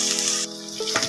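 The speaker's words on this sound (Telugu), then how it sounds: "ఇప్పుడు 1 స్పూన్ అల్లం వెల్లుల్లి పేస్ట్ వేసానండి, కొంచెం పచ్చి వాసన పోయేలాగా వేయించేసుకుందాము." Ginger garlic paste sizzling with onions in a pan, a steady close, bright frying hiss with a brief stir or shift in the sizzle near the end.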